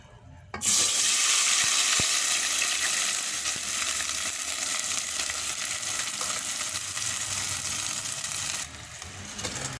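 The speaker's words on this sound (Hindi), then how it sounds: "अब इसमें मैं जो दूध में भिगो के रखी थी सूजी वो शामिल कर दूंगी।" Milk-soaked semolina poured into a hot pan for halwa sets off a loud, steady sizzle with splattering that runs nearly the whole time, then drops off near the end; no voices.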